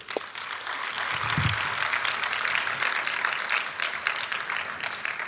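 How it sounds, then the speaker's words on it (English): An audience at a laya arangetram percussion debut gives a round of applause for Sri Mayuram Shankar, a sustained even patter of many hands, moderately loud, with a brief low voice early on. "Please join me in giving him a round of applause."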